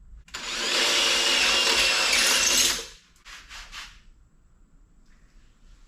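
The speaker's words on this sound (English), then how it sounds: "Drill 9/32 holes" A power drill boring 9/32 inch holes during a shifter install on a 1976 Chevy LUV, a loud high whirring burst of about two and a half seconds, followed by a few short, quieter pulses of the motor.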